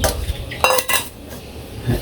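A wok of chicken and sour curd is stirred in a village kitchen, giving scraping, clinking utensil hits against the pan, with a couple of louder knocks partway through and a light sizzle beneath.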